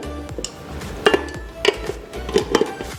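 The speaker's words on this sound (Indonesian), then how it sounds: "Lalu kita tambahkan gula halus. Kita aduk homogen sebentar." Butter blend and powdered sugar being stirred by hand in a bowl, with soft scraping and a few sharp clinks of the utensil against the bowl spread over a few seconds at close range.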